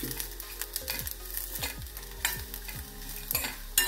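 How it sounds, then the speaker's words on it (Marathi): Cumin, bay leaf and other whole garam masala spices roast in a pan, making a steady close sizzle. A spatula scrapes and stirs through it in quick repeated strokes. "सगळे मसाले छान परतून घ्यायचे।"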